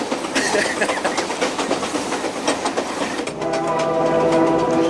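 A diesel locomotive train runs along rails on a Canadian line, a dense, loud rumble with rhythmic clatter that shifts to a steadier, tonal drone near the end.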